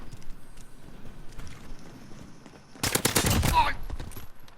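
A dense burst of rapid gunfire from an AN-94 rifle in a DMR build in Call of Duty Modern Warfare, a loud cluster of shots lasting about a second after quieter in-game ambience.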